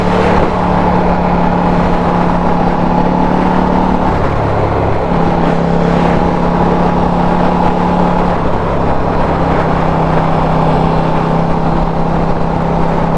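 A KTM motorcycle engine drones loud and steady throughout, its pitch dropping briefly midway before holding again, with no talk over it.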